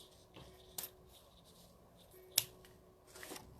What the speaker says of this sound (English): So now I'm going to cut my ribbon.